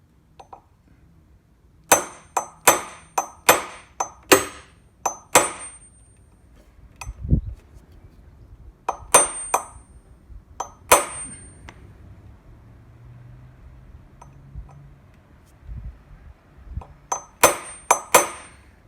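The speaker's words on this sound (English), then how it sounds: "I'm using this homemade center punch to put a detent in the middle of the metal" A hammer strikes a homemade center punch into metal, sharp ringing clangs in quick bursts of several blows, then pauses, then more blows, close and loud, with no talk.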